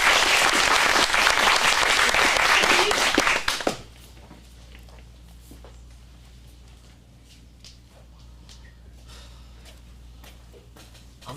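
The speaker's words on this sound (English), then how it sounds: "Round of applause" A small audience at an acting studio script showcase claps loudly for a few seconds, then the applause stops abruptly, leaving a quiet room with faint footsteps and movement.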